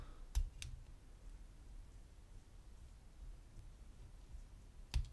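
A pick working the pins of a KASP K13545D weatherproof padlock gives a few faint, sharp metallic clicks, one pair early and another near the end, with quiet near-silence between them.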